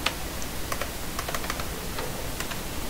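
Keys clicking on a computer keyboard, tested while setting up a Blender game project: a run of sharp, close taps in an irregular rhythm over a steady background hiss.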